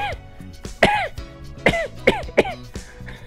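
Several harsh coughs and throat-clearing bursts come in an irregular series, close and loud, with short pauses between them.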